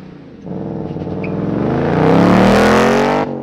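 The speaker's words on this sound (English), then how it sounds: "2021 Ford Mustang Mach 1 with launch control. Oh, yes! This pulls so hard." A 2021 Ford Mustang Mach 1 V8 launches under launch control, its engine climbing from a low burble into a loud, rising roar that peaks near the end, close and alone.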